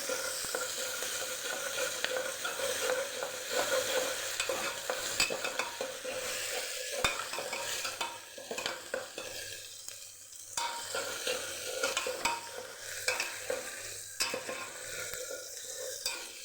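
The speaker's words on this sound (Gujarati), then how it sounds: "ડુંગળી થોડી સતળાઈ જાય પછી આપણે લીલા મરચાં ઉમેરી દઈશું અને આદુ અને લસણની પેસ્ટ ઉમેરશું એને પણ સરસ આપણે સાતડી લેવાનું છે" Onions, green chillies and ginger-garlic paste sauté in a pan for Kathiyawadi mixed-dal khichdi, a steady close sizzle with frequent stirring scrapes running throughout.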